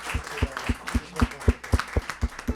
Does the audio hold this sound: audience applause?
yes